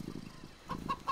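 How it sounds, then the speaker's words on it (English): Game-style chicken clucks, three short bright clucks in quick succession near the end after a softer low murmur, fairly quiet overall. "Is that a chicken back there?"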